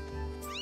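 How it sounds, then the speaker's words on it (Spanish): Cat meowing in the video game Zelda Skyward Sword HD, one short, fairly faint meow with a rising tone. "El pobrecillo como... como maulla."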